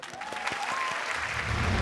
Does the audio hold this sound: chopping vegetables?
no